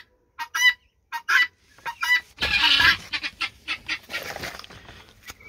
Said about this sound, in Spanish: Reciban un saludo de parte de las gallinas de Guinea.